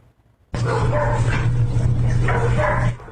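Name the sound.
abandoned dogs barking in an apartment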